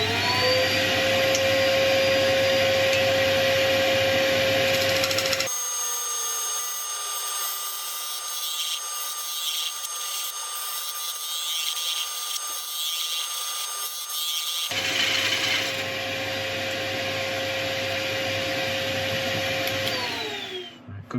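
A woodturning tool is being sharpened on a grinder, giving a loud steady whirring hum with a high metallic grinding tone. The hum drops to a quieter whine midway, then returns at full loudness.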